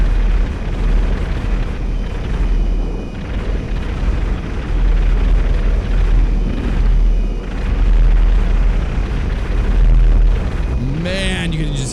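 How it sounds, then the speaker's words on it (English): Carpet-bombing explosions in the video game GTA 5, a continuous heavy rumble of concussive booms rolling together, loud and deep, with talk near the end. "you can just hear the concussions of those explosions"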